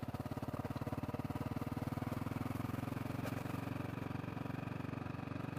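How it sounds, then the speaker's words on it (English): A Honda CRF250L dual-sport motorcycle lugs in too high a gear, its engine thudding in a steady, low, labored pulse that stays close and loud throughout. "Listen to this 250L, sounds like a tractor lugging."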